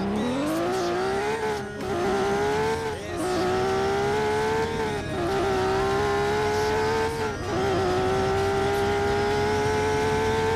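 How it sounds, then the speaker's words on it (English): A fast car in a video game set in Southwest Florida, a steady loud engine whine that climbs in pitch with brief dips at each gear shift, heard alone and close. "Look how fast this car is"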